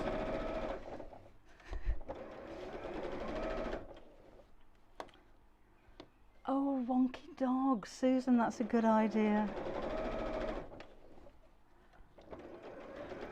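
A sewing machine whirs in bursts, stitching in short runs with pauses, while people chat nearby over the mechanical hum.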